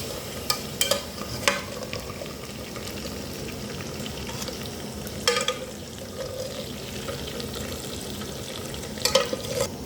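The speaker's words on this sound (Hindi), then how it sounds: "आप देख सकते हैं कि हमारे आलू अच्छे तरीके से फ्राई हो गए हैं" Potatoes frying in oil in a pan for an aloo shimla dish, a steady close sizzle with occasional sharp stirring clatters and spatters, no talking.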